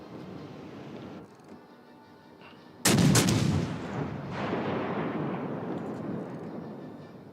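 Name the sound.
guns firing in a video game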